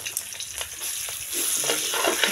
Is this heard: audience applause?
no